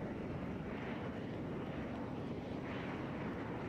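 Aircraft engine in the Planetside 2 video game, a continuous droning roar with a slight swell as throttle rises, steady and moderately loud, with no talking.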